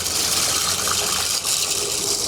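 Tap water gushes steadily into a pot for boxed mac and cheese, a continuous close, loud rushing pour with no talking.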